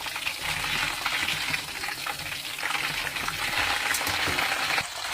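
Chicken balls deep-frying in hot oil in a wok, a loud, steady crackling sizzle with dense bubbling that holds evenly throughout, close up with no talk.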